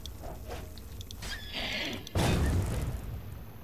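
A horse in The Elder Scrolls IV: Oblivion gives a loud, close whinny, followed by a heavy thump and rumbling game sounds.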